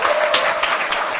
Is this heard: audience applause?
yes